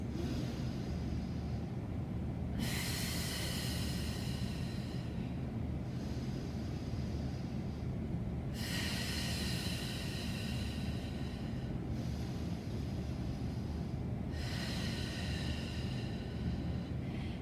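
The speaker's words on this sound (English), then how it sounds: "Try to match the length of your inhales with the length of your exhales." Slow, deep breathing during a yoga flow, with long airy inhales and exhales alternating in even cycles of about three seconds each. The breaths are close and breathy over a low, steady background hum, with no talking.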